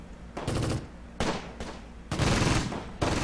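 Battle gunfire in the Close Combat: Gateway to Caen video game, with a Panzer IV in the fight: several loud, close bursts of rapid automatic fire separated by short pauses, with no talking.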